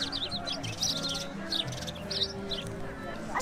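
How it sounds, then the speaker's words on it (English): Small birds chirping and squabbling among some bushes beside a lake at Epcot's World Showcase, with quick bright tweets repeating over a steady outdoor background murmur and faint distant voices. "I think these birds are fighting."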